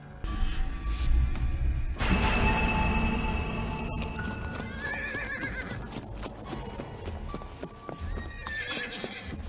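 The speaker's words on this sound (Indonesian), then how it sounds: "Terdengar kaki kuda melangkah dengan gemerincing." Horse hooves clop steadily along with faint jingling, while a horse whinnies now and then over a low rumbling background.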